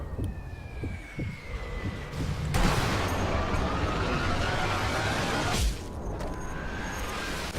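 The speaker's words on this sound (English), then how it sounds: "I was making use of the sounds of the explosions there to mask my shots" Video game warfare in Sniper Elite V2: a muffled rolling rumble of explosions and gunfire swells for about three seconds, then eases back to a low distant backdrop.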